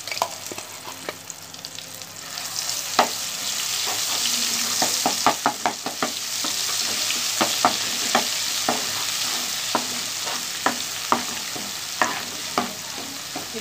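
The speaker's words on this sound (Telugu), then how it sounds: "ఇది బాగా వేయించుకోవాలి." Onion and garlic paste frying in oil in a pan, a steady crackling sizzle with frequent sharp spatters and pops, close and fairly loud, with no talk.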